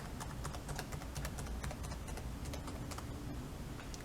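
Keys being pressed one after another on a Sony Vaio laptop keyboard, a steady run of close, crisp clicks and taps filling the whole stretch with no talking.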